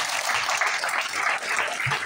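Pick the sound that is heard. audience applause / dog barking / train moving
audience applause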